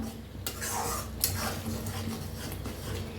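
Masala roasting in an open pan, stirred with a utensil that gives a few sharp scraping clicks over a low continuous sizzle, heard up close.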